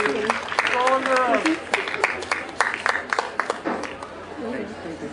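Scattered clapping and cheering from a crowd at a Pride gathering in Exeter, Devon, greeting a newly engaged couple; claps come in uneven bursts with voices and chatter mixed through, fairly close and moderately loud.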